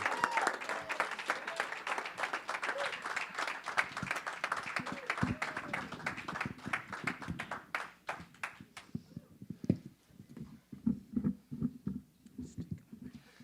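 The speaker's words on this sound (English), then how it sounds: "let's give a round of applause" A crowd bursts into sustained applause that gradually thins out, leaving a few scattered claps and low murmurs at the end.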